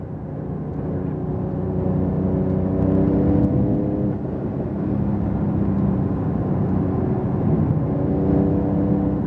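Porsche 911 Turbo S engine pulling hard under acceleration on a driving course, a steady loud harmonic drone that holds and builds through the whole stretch with no talk.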